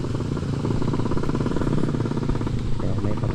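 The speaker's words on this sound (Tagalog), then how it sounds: "May paparating pang Skylab." A Skylab motorcycle taxi draws closer along a dry hilly road in DRT, Bulacan, its engine a steady, loud, rattling putter up close.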